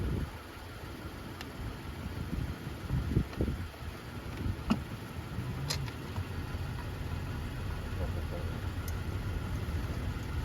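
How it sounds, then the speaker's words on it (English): A 2016-2023 Toyota Tacoma engine idles steadily in the cold, a low continuous rumble with a few faint clicks and handling noises nearby, and someone speaks briefly early on. "I've got the vehicle running here"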